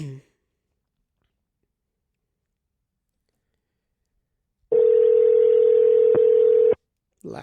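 A telephone ringback tone sounds on an outgoing call, one steady tone lasting about two seconds after a long silence. It is followed by a brief click.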